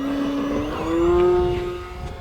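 A 4S-powered RC skateboard drives by outdoors in light wind, giving a loud, steady electric motor whine that rises in pitch, peaks near the middle and eases off toward the end.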